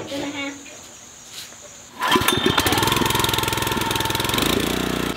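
A tractor engine cranks and catches after a quiet stretch with a few voices, then settles into a loud, steady rumbling idle close by.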